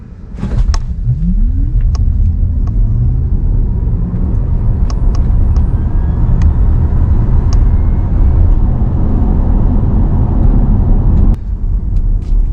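A 2023 Tesla Model Y Long Range accelerates at full throttle from a standstill, giving a loud, steady rumble of road and tyre noise that holds for about twelve seconds before a brief dip, with no talking.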